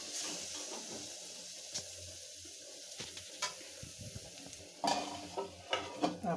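Egg curry masala fries in a pan, a soft close sizzle broken by clinking, scraping stirs that grow busier toward the end.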